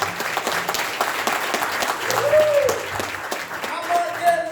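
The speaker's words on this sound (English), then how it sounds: "Y'all give Stevie a birthday clap." A crowd at a gospel homecoming concert in Yorkville applauds in a steady, moderately loud wash of clapping, with scattered voices and a brief whistle-like tone in the background.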